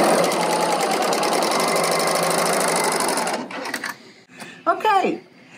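A serger sewing machine runs at a fast, steady mechanical whir for about three seconds, loud and close, then stops and a voice speaks.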